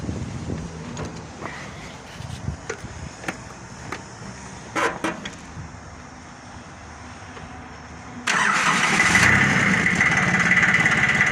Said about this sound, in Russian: Пробуем запустить двигатель, послушаем, как работает.